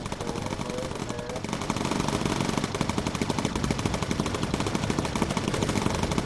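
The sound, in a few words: bomber gunners firing incendiary ammunition in Bomber Crew video game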